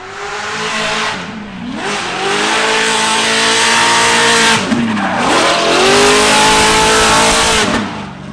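A 1000 hp 2JZ-swapped BMW E36 on nitrous racing a lap, loud engine revving hard through gear changes with rising and falling pitch and tire squeal, close and continuous with no talking.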